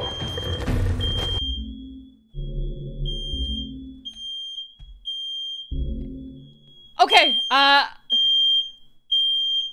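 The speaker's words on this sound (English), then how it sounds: "That's the fire alarm!" A smoke-alarm style fire alarm in a horror video game (The Last of Us) sounds repeated shrill beeps in the second half, after bursts of loud game noise and a short spoken word early on.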